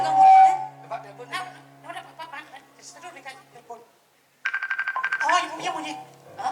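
A telephone rings on a stage during a comedy performance, a repeating electronic trill heard after a pause, following stretches of talk and laughter and partly under voices.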